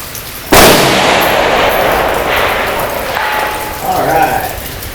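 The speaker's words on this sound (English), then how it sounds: "let me load up another 6 shots and I'll shoot those again at 625." A single loud, sharp crack of a 6.5 Grendel rifle shot at a 625-yard practice range, followed by a long fading rumble and faint distant echo.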